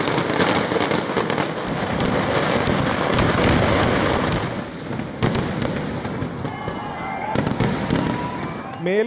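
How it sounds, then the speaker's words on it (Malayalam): Dense, loud fireworks from the Thrissur Pooram festival in Kerala: a continuous roar of crackling bursts and booms, with sharper blasts standing out, then a short dip before the barrage picks up again. "പുതുമയാർന്ന വെടിക്കോപ്പുകളാണ് സാമ്പിൾ വെടിക്കെട്ടിനും പൂരം വെടിക്കെട്ടിനുമായി തയ്യാറാകുന്നത്."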